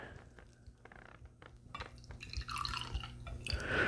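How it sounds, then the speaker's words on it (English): Jack Daniel's 1915 Gold Medal whiskey poured over an ice ball in a glass, soft drips and trickling liquid building into a splashing pour near the end, close and quiet. "I like to pour right over the top."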